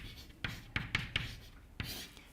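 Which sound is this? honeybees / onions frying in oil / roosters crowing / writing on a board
writing on a board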